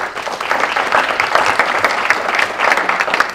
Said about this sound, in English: So I applaud all of you.